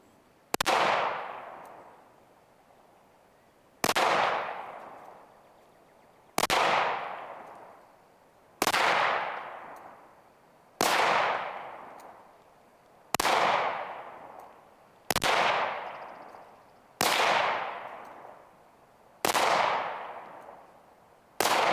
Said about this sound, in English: go ahead and shoot the PSA rock now